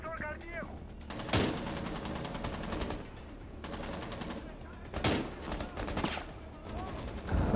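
Bursts of gunfire from the video game Rainbow Six Siege crack out at intervals, several sharp shots and volleys among ongoing game noise, with a player's voice faintly present.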